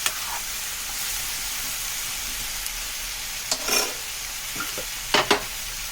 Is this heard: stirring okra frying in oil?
yes